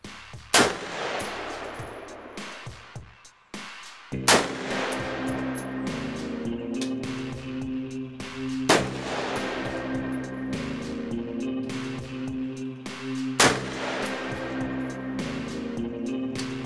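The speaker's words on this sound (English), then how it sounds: "I'm gonna go ahead and get this thing zeroed and do some more shooting." Four sharp gunshots from an Arsenal Democracy AD-15 pistol, loud and spaced several seconds apart, fired while zeroing on an outdoor range, each with a brief echoing tail.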